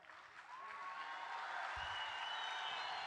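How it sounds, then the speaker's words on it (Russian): A concert audience breaks into sustained applause, a dense wash of clapping building quickly and holding steady, with faint cheering mixed in. "Ваши овации! Браво!"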